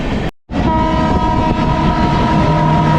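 A weekly express train from New Jalpaiguri to New Delhi rumbles past a junction crossing steadily and loudly, with a sustained horn tone and rolling rail noise throughout, after a brief gap at the start.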